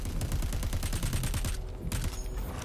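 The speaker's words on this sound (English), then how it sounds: "Watch the enemy fire." Rapid bursts of enemy gunfire in the video game Crackdown 3, a dense rattling volley of repeated shots that runs steadily for a couple of seconds, then thins out near the end.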